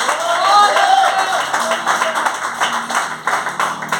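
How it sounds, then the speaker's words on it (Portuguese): Congregation clapping hands in a church during worship, the claps sounding under a loud, melodic voice and music. "Palmas para Jesus, aleluia."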